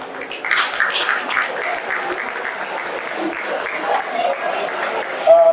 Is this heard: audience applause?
yes